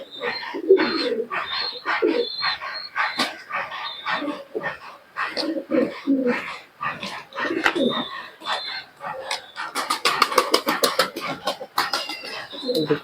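Pigeons, including Teddy and Giribaj breeds, coo softly and repeatedly alongside scattered bird calls and a burst of fluttering, with faint voices now and then, during the rainy season.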